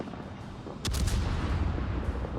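A British Iron Duke battleship's main guns firing high-explosive shells in World of Warships, one heavy booming salvo that cuts in suddenly and rumbles on under steady game ambience, with no talking.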